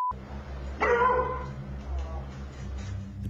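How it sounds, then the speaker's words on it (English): Pet dogs bark at the windows of a house, a short burst of sharp barks and yips close by, followed by lower whimpering and grumbling against a steady indoor hum. "They move from window to window, barking at the presence."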